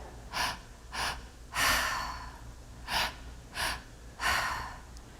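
Deep breaths drawn during a breathwork meditation session, six strong inhales and exhales in a steady rhythm, close and fairly loud with no talking.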